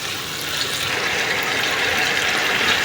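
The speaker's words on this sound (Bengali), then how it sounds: "আমার মুরগি প্রায় কষানো শেষ এখন একটু দিয়ে দেবো হালকা পানি" Water pours into a pan of chicken being braised for a bottle gourd curry, a steady broadband rushing and gushing that holds for about three seconds at close range with no talk.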